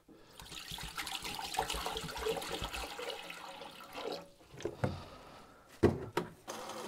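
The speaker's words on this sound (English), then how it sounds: "And now just a plain tap water rinse." Tap water runs and splashes into an emptied ultrasonic record cleaner tank as it is rinsed, a steady close wash with a few louder knocks and gurgles near the end.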